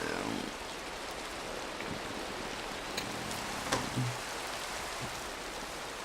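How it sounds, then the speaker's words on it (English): Rain falls in a video game as a fairly light, continuous hiss of drops, with occasional small taps and thumps cutting through the even wash. "this rain, I think, is a bit lighter"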